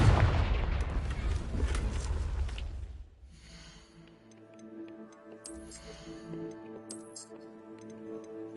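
A Confringo blasting spell fires in Hogwarts Legacy, a loud burst of explosive rumble and crackle lasting a few seconds, then fading into a quieter ticking, chiming game backdrop.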